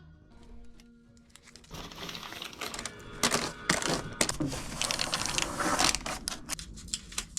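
Aluminium foil tape is crinkled, torn and pressed down over insulation board slivers stuffed into a roof gap, giving dense close rustling and crackling that builds and stays busy throughout.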